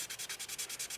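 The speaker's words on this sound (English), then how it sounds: "I'm going to take an ultrafine sanding sponge and I'm going to sand" An ultrafine sanding sponge rubs over the painted clear-coated surface of a quarter-scale Spider-Man sculpture, a close, even back-and-forth scratching in about nine quick rhythmic strokes.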